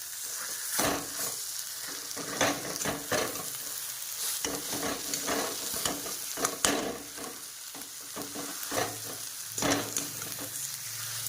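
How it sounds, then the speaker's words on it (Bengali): Potato with spices fries in a pan for aloo paratha, a continuous crackling sizzle broken by repeated scraping stirs at an irregular rhythm, close and clear with no voices. "আলুটার সঙ্গে মশলাটা ভালো করে কষিয়ে নিই"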